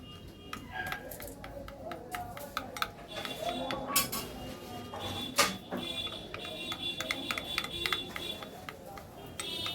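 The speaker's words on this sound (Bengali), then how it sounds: "আবারও ভালো করে মিশিয়ে নিচ্ছি।" Spoon scraping and clinking against a bowl while batter for patishapta is stirred, a steady run of light, busy clicks and taps close by, with someone speaking in places.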